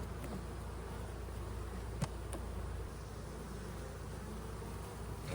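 Honey bees buzz in front of two beehives, a continuous dense hum that stays steady and fairly close throughout, with no talking.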